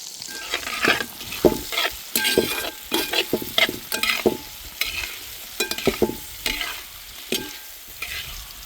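Mango pieces for thokku frying in oil in a pan, heard as close bursts of sizzling and frequent stirring scrapes in an uneven rhythm, with no voices.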